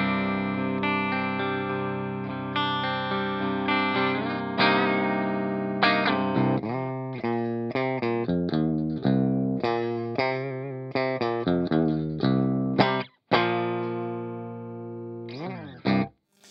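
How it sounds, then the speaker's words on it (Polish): Electric guitar played through the clean channel of an MG amplifier, bright ringing chords and plucked notes with sharp attacks and decays, some strummed rhythmically, with short gaps and a final strum cut off. "To, co słyszeliście w tej chwili, to czysty kanał MG, który niedawno pojawił się na kanale."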